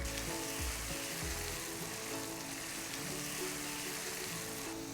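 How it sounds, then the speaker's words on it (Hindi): Potatoes frying in hot mustard oil, a loud, steady, continuous sizzle that hisses and crackles throughout with no one speaking. "सरसों के तेल में जब वो फ्राई होगा, बहुत बढ़िया टेस्ट देता है।"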